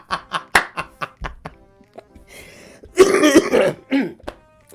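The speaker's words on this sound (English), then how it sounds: "there's that asthma cough." A man coughs and clears his throat repeatedly in short, harsh bursts, with a thicker rattling asthma cough in the middle. The sound is close and loud, and a few brief laugh-like breaths follow.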